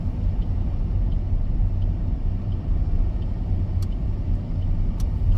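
A car rolling along and easing off speed during a driving test in Hull, a steady low engine and road rumble heard from inside the cabin.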